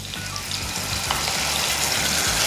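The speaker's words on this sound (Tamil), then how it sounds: "ஏற்கனவே இந்த டக்கூஸ் சாஸ் இருக்குல்ல, அந்த சாஸு தான் அதில் போட போகிறோம்" Daqqus sauce hits a hot pan while cooking fish machboos, setting off a loud, close, steady sizzle with a little stirring and no voices.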